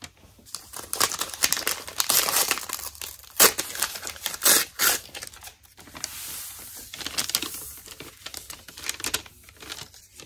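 Sheets of paper crinkle and rustle in bursts as they are laid out to cover a heat press during sublimation printing of mouse pads, close and fairly loud with short crisp crumpling peaks and no talk.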